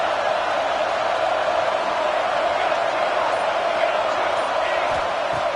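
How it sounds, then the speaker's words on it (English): Dense, roaring crowd noise fills a college football stadium at a Georgia versus Alabama game, loud and unbroken throughout, with no distinct voices standing out. "listen to this crowd noise. This stadium is vibrating."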